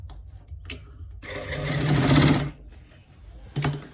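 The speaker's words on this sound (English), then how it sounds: "we gotta stitch it twice to make so that the thread is not gonna remove" A sewing machine stitches a trouser seam twice in short runs, a close whirring burst in the middle framed by brief clicks and a quick final run.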